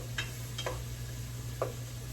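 Hamburger meat and bacon browning together in a pan for bacon sriracha chili, making a soft, steady sizzle with a few light scrapes and ticks from stirring.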